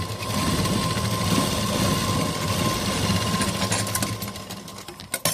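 A sewing machine runs steadily while double-stitching the neck of a Y-neck school uniform, a fast continuous mechanical whirr that holds close and constant before a few brief knocks near the end.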